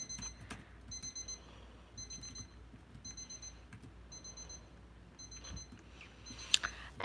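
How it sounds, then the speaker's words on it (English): An alarm in the Roblox game Bloxburg beeps in regular short bursts about once a second, a thin high tone over faint background noise, with a louder click near the end. "We need to go inside and stop this freaking beeping."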